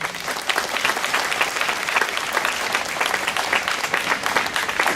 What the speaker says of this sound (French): vous aussi applaudissez vraiment de façon généreuse aussi Madame Véronique Janon